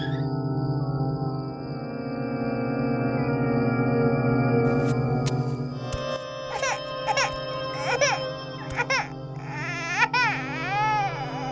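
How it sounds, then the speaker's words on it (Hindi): A baby cries loudly and continuously, starting as a sustained wail and breaking into shorter, warbling sobs and whimpers toward the end. "ये रोने की आवाज कैसी?"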